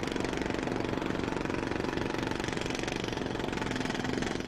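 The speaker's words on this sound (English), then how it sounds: "Loud machinery or tools." Loud, steady mechanical engine roar with a rapid knocking, hammer-like rhythm, continuous and close, unbroken for the whole stretch before easing slightly at the very end.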